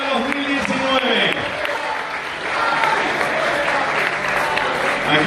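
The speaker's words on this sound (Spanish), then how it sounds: "El aplauso para Carlitos Vera." A crowd applauds Carlitos Vera as he receives the 2019 Premio Popular de Oro at the Diario Popular's 25th anniversary celebration, with loud, sustained clapping and cheering while a presenter speaks over it.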